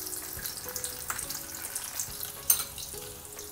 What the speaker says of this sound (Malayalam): ഇനി വെളുത്തുള്ളി വറുത്ത് കോരാം